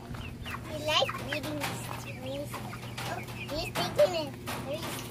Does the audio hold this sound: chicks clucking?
yes